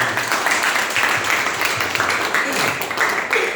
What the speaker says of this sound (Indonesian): Tepuk tangan Bapak T